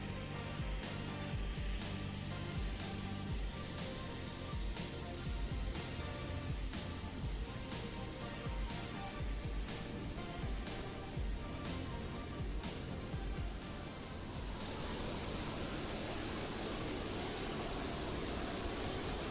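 An FSS E-Jet airliner in a flight simulator gives off a steady jet engine roar with a high rising whine, continuous and fairly loud, with no talking.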